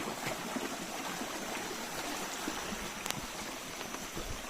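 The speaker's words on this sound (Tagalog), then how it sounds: "Lakas ang tubig oh." Steady rushing spring water flows strongly and continuously, a full, even gush with no voices.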